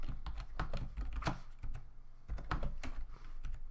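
Rapid keystrokes on a computer keyboard while writing Rust code, clicking in quick irregular bursts with a short pause in the middle, close and fairly quiet.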